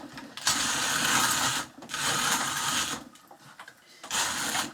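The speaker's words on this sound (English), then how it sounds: "it is a rough grinding experience" A Pharos 1.0 hand coffee grinder grinds in three loud bursts of rough, gritty ratcheting and crunching, separated by short pauses, close up, with no talking.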